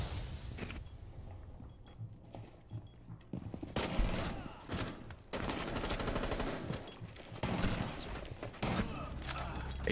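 Mac-10 submachine gun fire in Rainbow Six Siege, repeated rapid automatic bursts, close and loud, separated by short quieter gaps with faint game noise and a low voice underneath.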